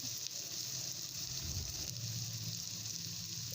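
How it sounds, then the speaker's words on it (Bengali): Chopped onions fry in a pan for boot biryani, giving a steady, soft sizzle and faint crackle throughout, with no talking. "সবগুলো পেঁয়াজ কুচি দিয়ে দিয়েছি। এবার এটাকে ভালো করে আমাদের ভেজে নিতে হবে।"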